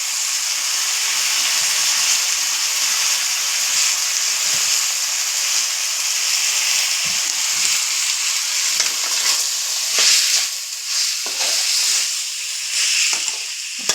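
Chicken with broad beans sizzles and fries steadily in a pan on a gas flame while being stirred, a continuous close hiss with occasional scraping clicks of the spoon throughout.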